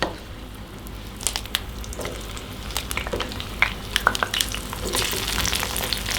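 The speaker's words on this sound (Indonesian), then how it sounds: "Ini semua kita goreng bersama cabai merah" Shallots, garlic, candlenuts and red chili fry together in hot oil, a dense continuous sizzle with scattered crackles and stirring scrapes, close and steady.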